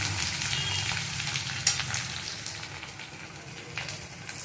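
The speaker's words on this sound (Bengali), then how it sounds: "দেখুন আলুটাকে ভালো করে ভাজা ভাজা হয়ে গেছে।" Potatoes and carrots fry in a pan with a soft, steady sizzle and faint crackle, moderately quiet and close, with a small clatter partway through and no talking.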